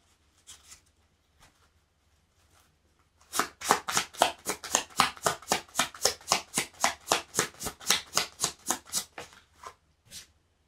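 Oracle cards are shuffled for a reading, a few soft taps, then a rapid run of about twenty crisp riffling flicks in a steady rhythm, close and clear with no talk.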